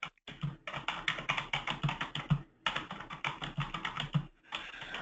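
Rapid clicking of computer keys in quick bursts, with two short pauses between runs of typing, heard over a webinar call, close and distinct with no one talking.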